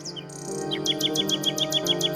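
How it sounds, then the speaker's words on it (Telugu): A nightingale sings a quick run of short, bright repeated chirps in an even rhythm, clear and fairly close, over a soft sustained tonal background. "నైటింగల్ పాడిన పాటలు విని ఉపశమనం పొందారు"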